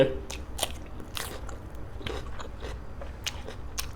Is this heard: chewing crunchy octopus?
yes